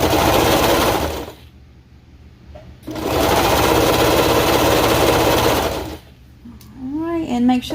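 A serger stitches a quarter-inch seam joining a ruffle sleeve to leotard fabric. It runs in two loud, rapid, steady bursts separated by a quiet pause, and a voice speaks briefly at the end.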